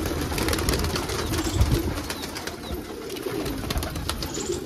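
Kalsira, Rampuri and border pigeons coo in a loft, their low throaty calls overlapping steadily at moderate loudness over a busy background with scattered clicks and rustles.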